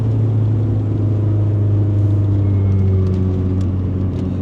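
Renault Clio RS exhaust drone resonating through the cabin, a steady loud low hum with layered engine harmonics holding constant throughout, heard from inside the car with no talk.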